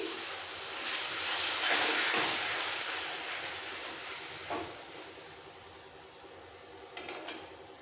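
A little water hits frying spices in a pan for chicken curry, setting off a loud rushing sizzle that swells over the first few seconds, then gradually settles into a quieter hiss with a few faint scrapes near the end.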